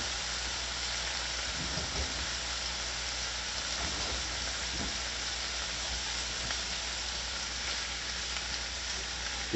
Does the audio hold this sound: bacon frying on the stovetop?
yes